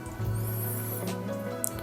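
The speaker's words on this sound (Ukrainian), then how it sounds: "Ну, до речі, забагато налив, можна менше було." Water poured onto a pepper plant growing in coco substrate, a steady close splashing wash that starts abruptly and runs evenly for well over a second alongside a faint background hum.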